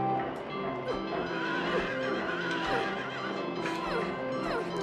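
A carousel horse in the video game Silent Hill 3 neighs and whinnies repeatedly over clip-clop hoofbeats, loud and close, with a dense, continuous game soundscape behind it.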